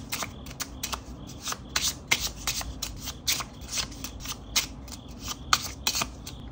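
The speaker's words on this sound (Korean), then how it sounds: "그러면 카드 뽑아보도록 하겠습니다" Tarot cards are shuffled and drawn close by on a table, a run of crisp, quick riffles and soft card slaps at an irregular rhythm.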